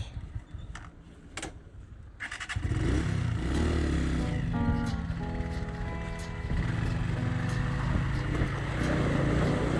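A motorcycle engine idles quietly, then rumbles louder and revs up, running steadily close by with some mechanical clatter, on a road trip between San Pedro de Atacama and Uyuni.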